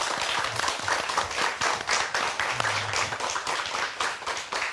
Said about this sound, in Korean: 박수로 저희가 강의 시작해보도록 할게요.